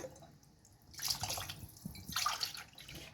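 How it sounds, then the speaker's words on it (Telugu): Four glasses of water are poured into a cooking pot for bulgur khichdi in two short bursts, each a splashing gush, separated by a brief quiet pause; close and fairly soft. "నేనైతే 4 గ్లాసెస్ ఆఫ్ వాటర్ అయితే పోసుకుంటున్నాను"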